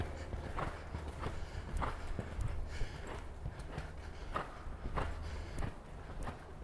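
A horse's hooves clip-clop at a walk on an outdoor riding arena during a lesson, a steady rhythmic series of thuds heard at moderate distance with light background noise.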